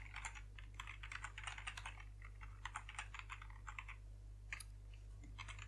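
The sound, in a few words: typing an email address on a computer keyboard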